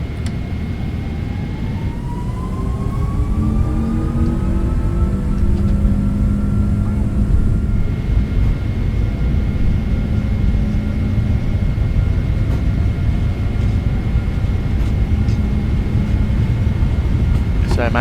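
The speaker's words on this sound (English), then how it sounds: "I'll let you listen to the takeoff roll with all the sounds" A PMDG 777-200 jet in a flight simulator game spools up for its takeoff roll, the engines rising in a loud, steady roar with a climbing whine and rumbling runway noise.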